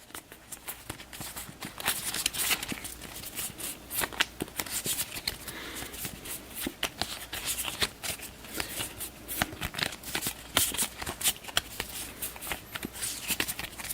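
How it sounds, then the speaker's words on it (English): A deck of game cards for the Slay the Spire board game being shuffled, a dense run of quick papery riffles and flicks close by, continuing steadily with no talk. "I'll give these a quick shuffle"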